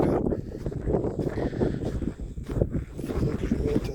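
Wind buffets a microphone on the banks of a lake during a mountain-bike ride, a steady low rumbling roar that swells and gusts, with faint rustling underneath.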